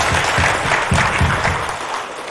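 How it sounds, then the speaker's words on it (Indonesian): Audience clapping at a graduation ceremony in West Sumatra, a dense, steady wash of applause that holds loud for about two seconds and then thins slightly near the end, with no voices over it. "Mari kita berikan aplaus dan tepuk tangan meriah untuk Stipik Sumatera Barat."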